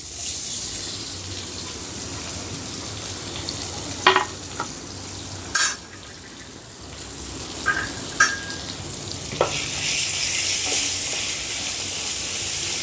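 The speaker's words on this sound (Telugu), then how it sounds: "ఇప్పుడు సన్నగా కట్ చేసిన ఒక పెద్ద సైజు ఉల్లిపాయ ముక్కల్ని వేసుకుందాం" Thinly sliced large onion frying in oil with a tempering of asafoetida, a steady sizzle broken by sharp clinks and scrapes of stirring in the pan, no speech.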